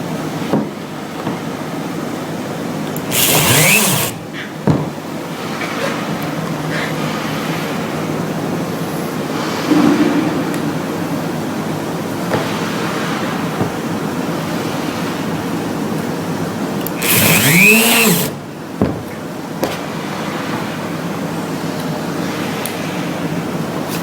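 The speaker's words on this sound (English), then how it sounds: "This particular spin weld is installed using a high-speed router" A high-speed router installing a spin weld cuts in with two short, loud bursts, each spinning up and back down, separated by a long stretch of steady background hiss.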